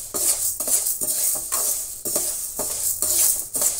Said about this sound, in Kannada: ತೊಗರಿ ಬೇಳೆ ಕೂಡ ಚೆನ್ನಾಗಿ ಫ್ರೈ ಆಗ್ತಾ ಇದೆ